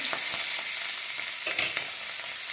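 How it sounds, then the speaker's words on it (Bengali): Pabda fish frying in a pan with a loud, dense hiss of hot oil and faint occasional ticks, steady and close throughout the short stretch. "এখানে মাছ ভেজে নেওয়া হচ্ছে পাবদা মাছ ভাজবো"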